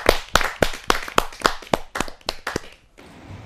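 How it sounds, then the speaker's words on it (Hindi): Hands clap in a steady, fairly quick rhythm at a Hindi poetry gathering (kavi sammelan), welcoming a poet to the stage; a dozen or so sharp, close claps, fading into faint room noise at the end. "जोरदार ताली के साथ हम स्वागत करें डॉक्टर विजय प्रकाश जमशेदपुर"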